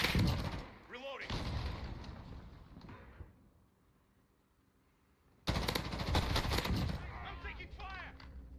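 Automatic gunfire in Call of Duty Mobile comes in loud rapid bursts, with a quiet gap in the middle before another heavy volley.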